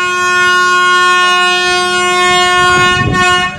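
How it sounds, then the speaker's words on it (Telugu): A locomotive horn blasts loud and sustained, a steady multi-tone blare held for over three seconds beside a train on a diverted route near Bhimavaram, with a brief rumble of rail movement near the end. "బ్యాక్ హార్న్ అయితే కొడుతున్నారు లోకో పైలట్ గారు"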